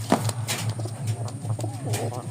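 Pigeons in a loft coo in a soft, rhythmic, repeated low pulse close by, with a brief sharper call near the start and a faint voice in the background.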